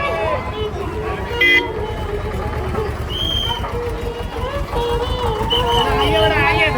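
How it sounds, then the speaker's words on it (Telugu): A toy train's horn toots among a busy crowd at the Numaish exhibition fair in Nampally, Hyderabad, with people chattering and calling out around it. "మధ్యలోకి వస్తుండు హారన్ కొట్టుకుంటా"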